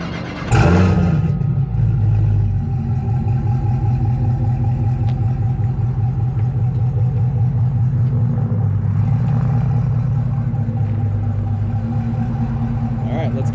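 A 1971 Chevelle engine cranks and catches, then settles into a steady, throbbing idle that runs on evenly and close by.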